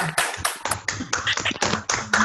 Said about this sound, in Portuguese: Eu gostaria de pedir que a galerinha aqui desse aí uma salva de palmas aí para o Marcelo aí.